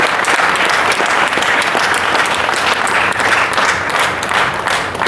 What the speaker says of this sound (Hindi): एक जोरदार ताली आप अपने लिए बजाइए।